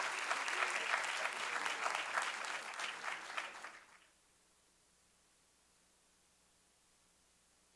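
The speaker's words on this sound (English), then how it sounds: "let's give them another round of applause for helping our students reach their potential" Steady applause from an audience at a school board meeting, a dense wash of clapping for about four seconds that fades out and leaves near silence.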